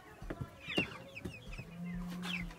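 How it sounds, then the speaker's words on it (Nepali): Chickens on a small poultry farm cluck softly in short, scattered calls at a distance, with a faint steady hum joining in the background partway through. "यहाँ यस्तो खालको कुखुरा छ यस्तो"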